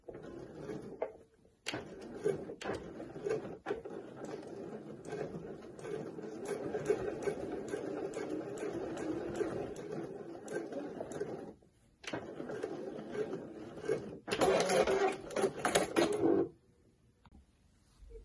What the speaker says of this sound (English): I'm gonna sew the lines that are gonna separate your games and the game slots